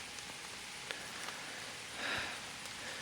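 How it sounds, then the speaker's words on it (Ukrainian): Light rain falls at dusk in the Carpathian lowlands: a faint, steady patter with a few sharper drops, a brief gust midway, and no voices. "Ще й дощик пішов."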